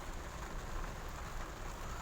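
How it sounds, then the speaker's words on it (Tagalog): Heavy rain falls as a constant, faint hiss and patter with no talk. "Kusog pa kay ulan"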